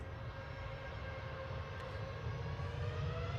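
A SunExpress airliner bound for Antalya at Manchester Airport gives off a loud, steady jet-engine roar that holds constant throughout, with no voices over it.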